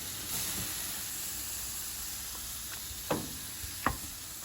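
Fajita meat sizzles over high heat on a smoky fire, a steady broad hiss with a few sharper pops and stirring clatters near the end.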